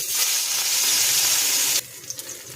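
Fish sizzling in hot oil in a pan for a light fish curry, a steady loud frying hiss that drops abruptly near the end to quieter crackling with a few small pops.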